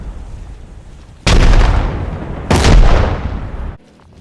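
Two heavy booms from frag grenades detonating in a military video game, each a sudden loud blast with a long rumbling decay, about a second apart, then an abrupt cutoff.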